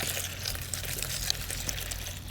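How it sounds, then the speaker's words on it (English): Water is poured onto Speedy Beet horse feed to soak it, giving a continuous close splashing pour with small bright gurgles and a low steady hum beneath, lasting a couple of seconds without speech. "I add water to them so they can soak."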